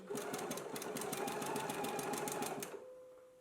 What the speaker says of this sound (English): I'm going to head to my sewing machine now, and I'm just going to stitch right along this inner fold